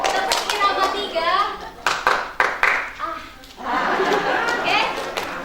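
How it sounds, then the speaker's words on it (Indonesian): At a community health post gathering, a group claps hands in a short patterned rhythm. A few sharp, separate claps land between stretches of children's and adults' voices. "Tepuk irama 3. Tepuk irama 3."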